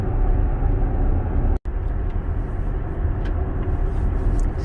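Steady road traffic rumble heard from inside a Tesla towing or driving as an RV through foggy evergreen forest near Redwood National Park, a continuous broadband wash of tire and engine noise with one brief dropout.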